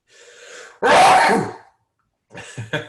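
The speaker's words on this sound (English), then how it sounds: "I'm going to sneeze, excuse me" A single loud, sharp sneeze up close during a lecture, preceded by a short inhaling breath and followed by a brief pause and then talking.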